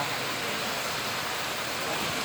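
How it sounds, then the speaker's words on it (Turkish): Steady, close rushing of a forest creek beside a picnic spot, a broad even wash of flowing water with no pauses and no voices. "Ben derenin sesini dinlemeyi çok severim bilirsin"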